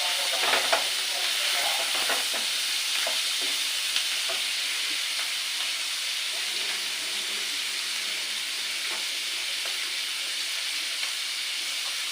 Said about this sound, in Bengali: এবারে এতে চিংড়ি মাছটা ভাজি করে নেবো